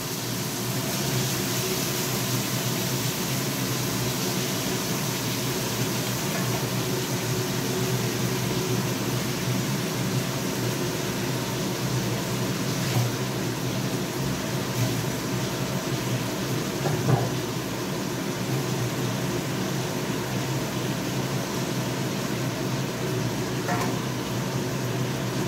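A kitchen chimney exhaust hood runs steadily, giving off a continuous broadband whoosh and hum that stays even and close for the whole stretch, with a few faint clinks and knocks in the background.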